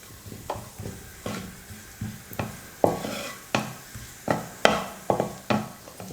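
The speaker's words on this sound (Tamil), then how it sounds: "நெய் நல்லா காஞ்சதுக்கப்புறமா 3 முந்திரி எடுத்து இந்த மாதிரி சின்ன சின்னதாக பொடியாக நான் கட் பண்ணி வச்சுருக்கேன், அதை சேர்த்துக்கிறேன்." Small pieces of chopped cashew fry in hot ghee while a spoon stirs, with a soft sizzle under repeated scraping strokes against the pan at a quick, fairly regular rhythm.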